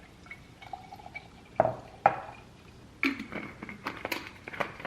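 Oat milk made from organic gluten-free oats and Himalayan pink salt is poured into a container, heard as a few sharp splashes and trickles with short gaps between them and faint clinking.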